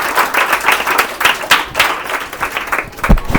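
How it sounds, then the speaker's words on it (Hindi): Audience clapping to welcome contestant Anjali Kumari onto a quiz-style education show, a loud, dense burst of hand claps filling the room throughout, with no talk over it. "जरा जोरदार तालियों से स्वागत कीजिए, हम बुला रहे हैं अंजलि कुमारी का।"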